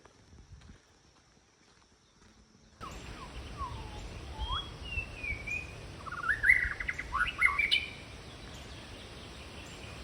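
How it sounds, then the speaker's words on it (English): Birds chirp along a hiking trail to a stone dam on Kauai, with bright scattered calls and tweets rising after a quiet opening, set against a soft outdoor rumble and faint movement, no talking. "A beautiful bird."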